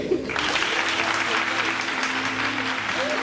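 Audience applause at a Brazilian film event, a dense, steady wash of clapping from a crowd that fills the whole stretch, with faint voices underneath.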